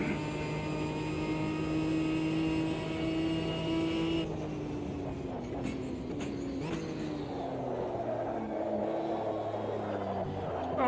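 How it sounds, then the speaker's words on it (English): A race car engine with its throttle stuck open in a sim racing game, holding a loud steady high rev and then dropping and wavering in pitch as the car shifts and slows, no talk. "Oh, the throttle's stuck open again."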